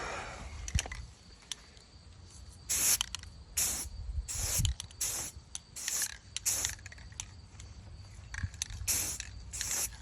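A spray paint can hisses in short, repeated bursts of a second or so while coating an AR-15 rifle and burlap in green, with quiet handling clicks and rustles between sprays.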